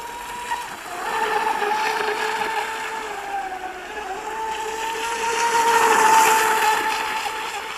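Fast electric RC boat with an outboard motor whining steadily across the water as it turns, a thin high motor tone that swells and fades with distance.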